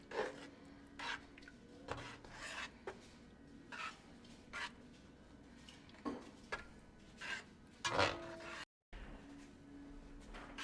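A spoon works through a pot of Louisiana Cajun crawfish étouffée with repeated soft rubbing and scraping strokes. The strokes are quiet and fairly close, come in an uneven rhythm and are spaced a second or two apart.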